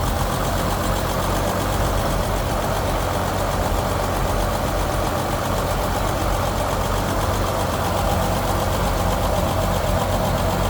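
A 1934 Chevrolet DB enclosed-cab pickup with a single carburetor idles steadily and smoothly, a close, even, continuous engine drone with no voices.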